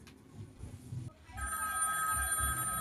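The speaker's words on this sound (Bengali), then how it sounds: "আবার কে ফোন করলো অসময়?" A telephone bell rings indoors, a steady bright ring starting after a second of faint muffled background noise and continuing loudly to the end.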